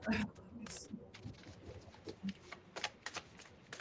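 Quiet, soft riffling and flicking of oracle cards being shuffled, in irregular bursts of light papery taps and slides.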